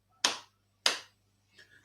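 Two crisp, close hand claps land about half a second apart, each sharp and isolated in near silence, followed by a faint, brief scuffle of sound.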